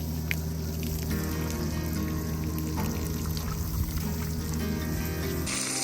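Hot water pours steadily from a camp shower heater at a Death Valley campsite, a continuous close splashing stream with a low rumbling hum beneath, running without a break until it cuts off near the end.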